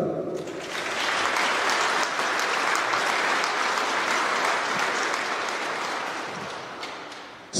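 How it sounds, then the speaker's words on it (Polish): A school awards gala crowd bursts into loud, sustained applause for talented pupils at a primary school, many hands clapping densely and evenly before the sound tapers off toward the end. "Wielkie brawa dla nich."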